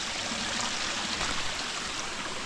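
A mountain stream flowing strongly, a steady full rushing and splashing of water, close and continuous with no voices.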